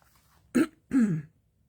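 Two short, harsh throat-clearing coughs, close and loud, with near silence around them.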